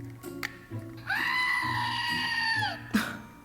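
A screaming goat novelty toy from a goat kit lets out one long, loud, human-like goat scream lasting about a second and a half, framed by small clicks and handling noises.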